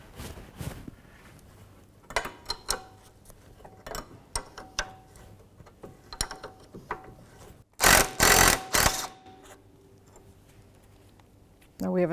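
An 18mm wrench works a nut on the rear sway bar link of a 2005-2009 Subaru Outback, with scattered metallic clicks and ratcheting taps and then a loud clattering burst near the end.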